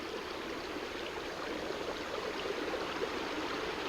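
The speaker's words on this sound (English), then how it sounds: "Lots of new creeks here that used to not be here." Creek water flows steadily, a continuous broadband rush with light gurgling, close and fairly quiet, with no voices.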